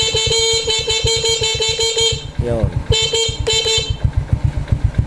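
A Honda Wave 100 motorcycle idles with a steady pulsing engine while its horn honks in repeated short bursts, loud and close, with a brief voice speaking partway through.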